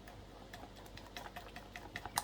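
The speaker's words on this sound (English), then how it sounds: "keep gradually adding and whisking the whole time" Batter being whisked in a bowl for toad in the hole, faint light ticking and clinking taps of the whisk against the bowl in an irregular rhythm, quiet and close with no talk.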